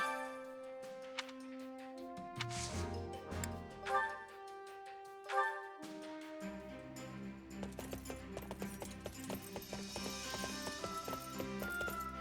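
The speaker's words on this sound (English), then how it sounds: "let us get these horses on the road." Horses' hooves clip-clop in Fire Emblem Warriors: Three Hopes, a steady run of light hoof strikes set over in-game music with no talking.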